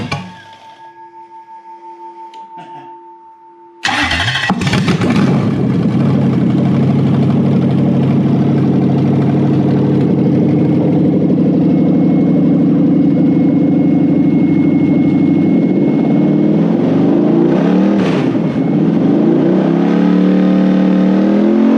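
A Toyota 1UZ V8 in a VL Holden Commodore cranks and fires up after a quiet stretch, then settles into a loud, steady idle with a slight rise in pitch near the end.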